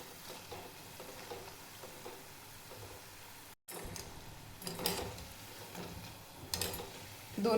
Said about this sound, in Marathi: दोन्ही साईडनी पण व्यवस्थित तळून घ्यायचे